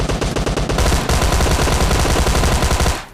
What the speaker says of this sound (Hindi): उसने पहले शूट कर दिया था। बाद में मुझे पता चला अच्छा भैया गोली चला रहे हो।